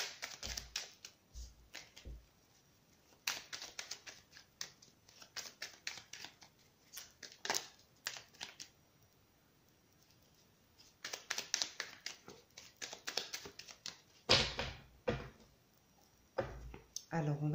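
Tarot cards are laid down and covered on a table, making clusters of light, close taps and soft slaps in bursts, with quiet pauses between them.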